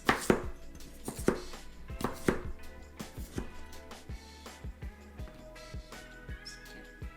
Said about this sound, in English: I rinsed off my potato. I'm just going to chop it up into some bites.